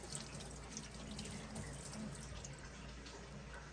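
Mangoes being washed under a running kitchen tap, a steady, faint rush of water splashing into a sink throughout, with no talk over it.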